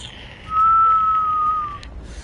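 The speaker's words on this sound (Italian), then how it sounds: "Cioè non devi fischiare, mi fa male le orecchie quando lo fai" A person whistles a single steady, clear high note held for over a second, loud and close, over quiet background noise during a Fortnite match.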